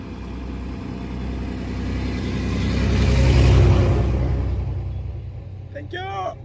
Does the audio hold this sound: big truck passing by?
yes